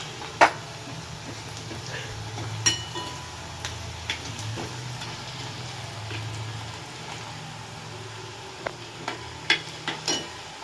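Onion and garlic fry gently in a pan, a soft sizzle with scattered clicks and sharp taps of a spoon stirring, the scraping knocks coming irregularly over the steady hiss.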